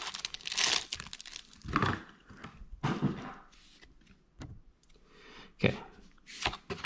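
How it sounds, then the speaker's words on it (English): Cardboard and plastic packaging of a Pokémon card collection box is torn and crinkled open, giving close, irregular crunchy rustles and rips in bursts of varying loudness, with no talk. "let's get this open and check out these cards in here"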